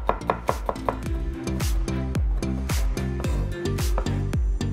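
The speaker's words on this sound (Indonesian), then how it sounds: "kita butuh 2 siung bawang putih. Ini kita cincang dulu ya," A knife chops two garlic cloves on a cutting board, starting with a few spaced taps, then settling into a fast, steady run of sharp, close, loud knocks with no talking.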